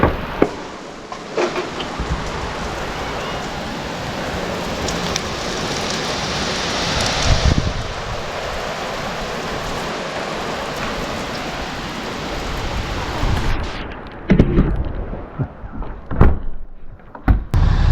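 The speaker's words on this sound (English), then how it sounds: "It's just rainy, cloudy, thundery stuff now." Steady heavy rain hisses throughout, with occasional low rumbles and knocks; the downpour thins near the end.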